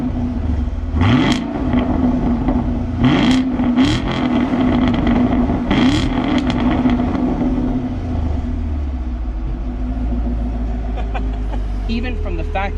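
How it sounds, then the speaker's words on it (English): Chevrolet Camaro LT1/SS V8 revving through its factory NPP exhaust, several sharp rising revs and blips over a steady rumbling idle, loud and close, with talk partly over it. "Even from the factory, this OEM NPP exhaust system sounds incredible."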